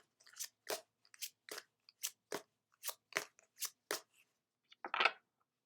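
A card pulled and shuffled from a Miracles Now oracle deck: about a dozen crisp, brief paper snaps and rustles in a steady rhythm, close and quiet, ending with a slightly fuller flutter.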